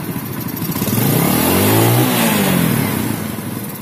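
A Yamaha Vega R motorcycle fitted with an aftermarket KW carburetor revs up, its engine rising to a loud, sustained rev in the middle before easing back, running close by with no talk.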